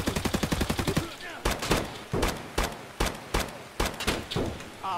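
Rapid gunfire in the video game Escape from Tarkov: a fast burst of automatic shots followed by a run of loud, evenly spaced single shots, close and sharp, with no talk over them.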